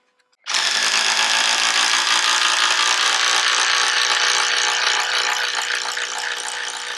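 A 12-volt impact driver drives a six-inch Spax lag screw, a loud continuous rapid hammering rattle that starts abruptly and holds steady for several seconds, slightly easing near the end.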